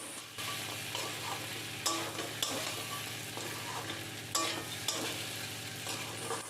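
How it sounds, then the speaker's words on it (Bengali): Crab and potatoes, both fried beforehand, sizzle in a spiced masala as they are stirred and sautéed again, a steady close hiss broken by several sharp scraping strokes of the spoon against the pan. "এবারে ভেজে রাখা আলু আর ভেজে রাখা কাঁকড়া দিয়ে দিলাম। সমস্ত কিছু খুব ভালো করে আবারও কষিয়ে নিচ্ছি।"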